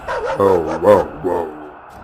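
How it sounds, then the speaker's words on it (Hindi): A dog barking and yelping as it comes running, a short run of close, loud whining barks with pitch rising and falling, then fading at the end. "तभी वहाँ पर एक भूतिया कुत्ता दौड़ते हुए आता है"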